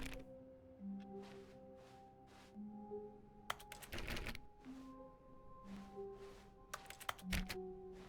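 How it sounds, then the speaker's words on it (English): Game click sounds in The Stanley Parable Ultra Deluxe come out as keyboard key clicks: two sharp clusters of rapid clacks, heard near and fairly loud over a steady droning game background with faint tones. "If I hit the click button, everything sounds like a keyboard."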